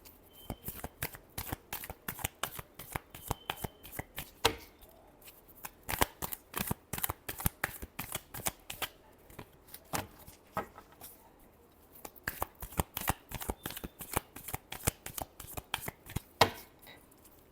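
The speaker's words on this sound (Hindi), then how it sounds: "last shuffle" Tarot cards being shuffled in a long run of quick, crisp riffling snaps, steady and close, pausing briefly midway before resuming at the same brisk pace.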